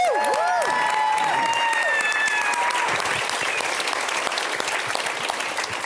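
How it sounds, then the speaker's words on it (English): Audience applause for Bob at a solidarity and justice movement gathering: a loud, dense wash of clapping from a crowd that runs steadily throughout, with a few high whistle-like tones near the start. "let's give Bob another round of applause"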